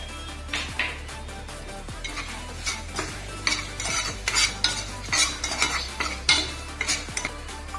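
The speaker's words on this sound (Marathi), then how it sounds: "खडे मसाले घालते मी।" Whole spices stirred around a hot pan for vegetable rice, with repeated metallic scrapes and clinks of a spoon against the pan over a light sizzle, close and fairly loud, no talking.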